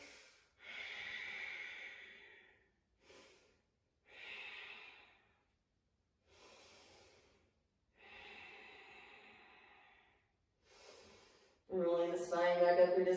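Breath is exhaled slowly during a seated yoga forward fold: a series of soft, close, airy breaths separated by pauses, then a louder voiced exhale at the end.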